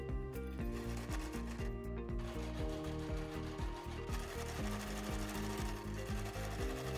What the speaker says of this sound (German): Nähe dann die Teile einmal außen herum mit 1 cm Nahtzugabe zusammen.